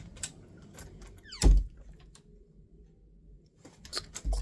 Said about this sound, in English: Let's close the door all the way.